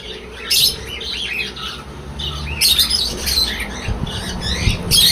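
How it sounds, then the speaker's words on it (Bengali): Parrots, cockatiels and lovebirds in a bird shop give loud, harsh squawks in short bursts near the start, middle and end, with softer chirping between them and no talk. "ডিম্বাচ্চা করা কোকাডেল পাখি লাভবার্ড পাখি আছে টিয়া পাখি আছে"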